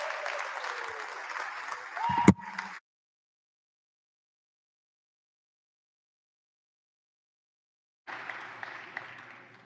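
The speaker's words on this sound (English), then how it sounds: "let's give them all a round of applause" Applause in a state House chamber during a floor session, a short burst of clapping with a sharp knock near its end, then silence before faint clapping returns.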